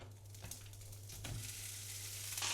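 Beef frying in its own rendered, jelly-like solidified fat in a pan gives a steady, soft sizzle throughout, with a low hum underneath and a faint brighter crackle near the end.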